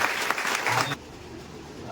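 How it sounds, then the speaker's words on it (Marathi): An audience at a student award ceremony breaks into loud clapping for about a second, which then cuts off abruptly into a quiet hall murmur. "जोरदार येतात टाळ्या वाजवा"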